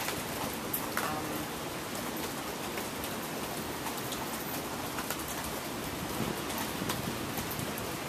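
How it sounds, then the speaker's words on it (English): Rain falls steadily around someone standing partly under shelter, a dense close patter of drops with occasional sharper splashes and no talking. "I'm standing in the rain, somewhat under shelter"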